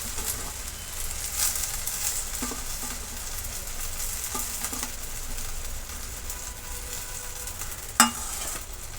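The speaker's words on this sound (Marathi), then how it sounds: "आता मी ह्याच्यामध्ये भाजी टाकून घेणार आहे तेल सुटूपर्यंत व्यवस्थित भाजून घ्यायचं" Fenugreek leaves sizzle in hot oil as they are stirred and fried for a dhaba-style garlic methi dish, a close crackling hiss with scattered spatula scrapes and a sharp clack near the end, no talking.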